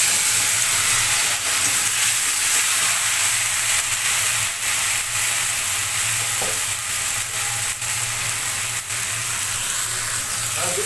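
Cornflour slurry, two spoons mixed in water, goes into banana flower frying in a pan, bringing a steady, close hiss of sizzling oil with light stirring throughout.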